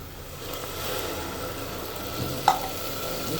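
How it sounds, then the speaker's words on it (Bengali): Chili, ginger and garlic paste with ground spices hitting a hot pan, a steady close sizzle with a soft stirring scrape and one brief clink, no voices. "এটাতে আমি এখন এই বাটা মশলা আর গুঁড়া মশলাটা অ্যাড করে দেব"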